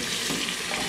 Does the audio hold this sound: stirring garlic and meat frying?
yes